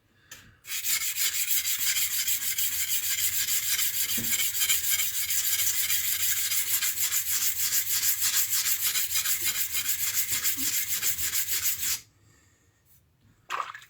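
A knife blade is sharpened on a whetstone during a sharpening class: a steady, close, loud grinding rasp with faint stroke rhythm runs for about eleven seconds, then stops abruptly.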